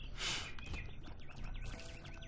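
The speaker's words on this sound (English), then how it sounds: "now the birds are waking up" Birds chirping outside, a few faint, quick tweets and short calls, with a brief hiss of noise at the start.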